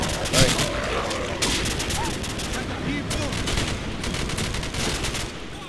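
Rapid bursts of automatic gunfire crackle through a nighttime Call of Duty match set in Rocinha, Rio, dense and continuous with sharper volleys standing out, while players talk over the shooting.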